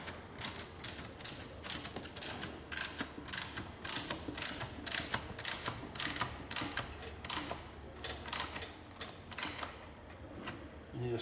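A wheel chock ratchets tight between two tires, a long run of sharp, rapid ratchet clicks in quick bursts, close and clear with no talk.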